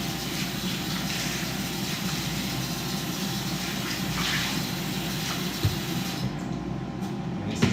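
Water runs steadily from a kitchen tap while soaked dishes are cleaned, a constant close splashing hiss throughout with a few small clinks.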